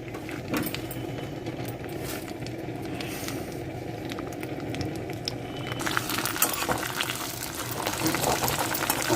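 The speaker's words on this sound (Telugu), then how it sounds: "ఆయిల్ వేసాను ఈ కరివేపాకును బాగా వేయించేసుకుందాము" Curry leaves fry in hot oil in a pan, a steady close sizzle and crackle that grows louder and busier toward the end, with no talk.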